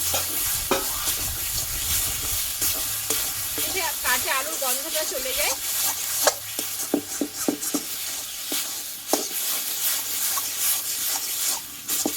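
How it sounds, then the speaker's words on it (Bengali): Pointed gourd and potato curry is stirred and sautéed with sugar in a pan. A steady sizzle runs throughout under repeated scraping and stirring strokes of moderate loudness, with a brief voice in the middle. "চিনিটা দিয়ে আরও কিছুক্ষণ মতো আমি একটু কষিয়ে নেবো ভালোভাবে"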